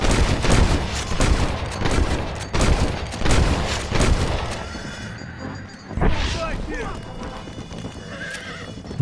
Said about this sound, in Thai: อยากยิงครบ 7 นัดก็ล็อกให้ครบ 7 นัด